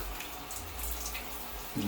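Water streams steadily from a high pressure filter shower head, a faint continuous hiss with a brief thump near the end.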